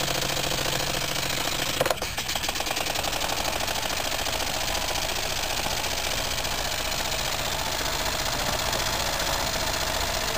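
A Jensen 20 toy steam engine running on two boilers, each with a 500 watt heater, producing a fast, even mechanical chuffing and clatter at around 880 to 900 RPM that holds steady and close, with no voices.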